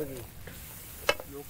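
Balochi food sizzles in a pan outdoors under a cook's hand, a low continuous frying hiss broken by one sharp clink of a stirring utensil near the end.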